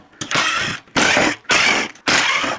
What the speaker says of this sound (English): It looks like I just have to take these couple screws off from the top.